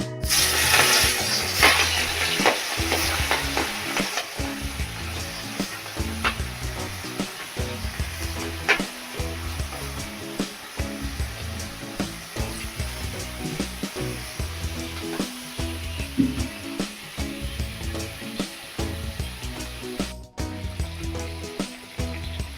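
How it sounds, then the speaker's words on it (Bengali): Prawns shallow-frying lightly in hot oil in a kadai while a spatula stirs them, a steady crackle with repeated scraping and clinking strokes throughout, close and continuous. "চিংড়ি মাছগুলো হালকা ভাজা হয়ে যাচ্ছে।"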